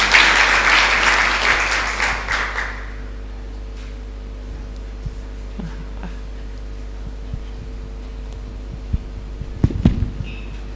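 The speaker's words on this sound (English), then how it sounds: "A hand clap for Joshua" A short burst of audience clapping at a conference event fades out within about three seconds, leaving a low steady hum and a few scattered small noises.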